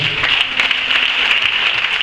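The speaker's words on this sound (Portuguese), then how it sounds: "Dê um aplauso ao Senhor" Applause from a church congregation at a family worship service in Carapicuíba, a dense, steady wash of clapping filling the whole short stretch without pause.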